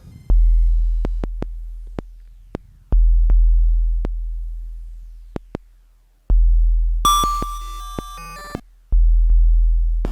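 Nord Micro Modular synth patch producing atonal, cymbal-like microsound: sharp isolated clicks and ticks over sustained low swelling tones that restart several times, with a brief dense metallic burst of multi-pitched shimmer near the end.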